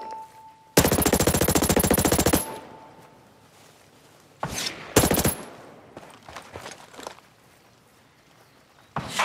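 Enemy automatic gunfire in Ghost Recon Breakpoint PvP, a loud sustained burst of rapid shots followed by two shorter volleys and scattered quieter shots and movement.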